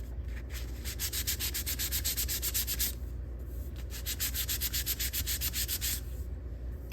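220-grit sandpaper rubs by hand along the grain of a wooden part of an Estes Orange Bullet model rocket in quick, even back-and-forth strokes, with two bursts and a short pause between them, close and fairly soft.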